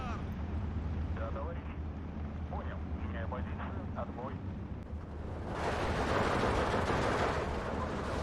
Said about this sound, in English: These bombers are pretty cool. But, not when they're bombing me.